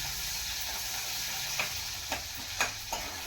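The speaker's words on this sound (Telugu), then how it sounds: "కొన్ని ఉల్లిపాయ ముక్కలు ఇందులో వేసేసుకొని ఇది కూడా ఒకసారి కలపాలి." Onion pieces stirred into sizzling tamarind leaf dal in a pan, a continuous frying hiss with several soft scraping strokes of a spoon toward the end.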